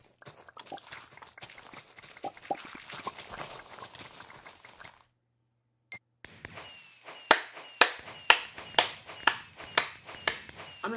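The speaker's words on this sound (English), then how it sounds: "Whoever's clapping for how terribly we did" Claps in a Minecraft game come in a loud, regular series of sharp close hits after a brief silence. Before that gap, lighter scattered taps and clicks are heard.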